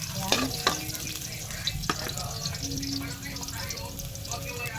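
Ginger being added to garlic in a hot pan, with soft sizzling and a few sharp stirring clinks over someone talking.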